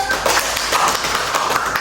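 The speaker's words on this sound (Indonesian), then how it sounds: "Tepuk tangan dulu." A small group in a guidance counseling class session claps hands briefly together, a short burst of close, uneven claps.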